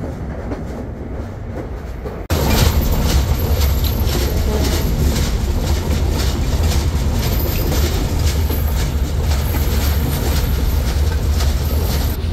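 The Padma Express runs on its rails in the late afternoon: after a quieter opening, a loud, continuous roar of wheels and rattling carriages starts abruptly and holds steady to the end.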